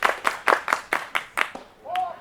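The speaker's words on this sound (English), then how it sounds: "Everybody clap your hands." A baseball crowd claps hands in a steady rhythm of about seven evenly spaced claps, fairly close and clear, followed by a brief whistle-like tone at the end.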